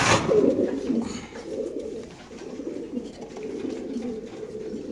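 A fancy pigeon, a crested 'guti fancy' bird at a pigeon farm, gives a steady soft cooing that comes through close and continuous for several seconds.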